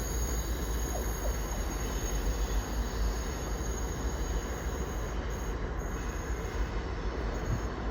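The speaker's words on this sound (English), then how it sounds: "A very long loaded Freightliner service off to Lowestoft Street from Felixstowe." A very long, loaded Freightliner freight train passes close at Ipswich on the Great Eastern Main Line. The wheels rumble steadily, wagons clatter and high squeals ring out throughout.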